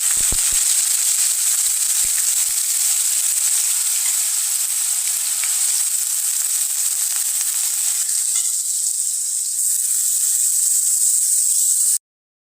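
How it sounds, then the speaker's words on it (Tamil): Curry leaves and pieces of elephant yam sauté in a pan with a loud, continuous bright sizzle, a few sharp taps of a spatula near the start, steady until it stops abruptly. "இப்போ வதக்கிட்டுருக்கேன்"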